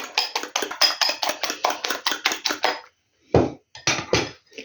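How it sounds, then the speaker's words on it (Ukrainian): A utensil beats and clinks rapidly against a bowl, mixing batter with marinade juice for a zucchini dish, in a fast regular rhythm of close, sharp taps, then a brief pause and a few more strokes. "І отак гарнесенько перемішаю."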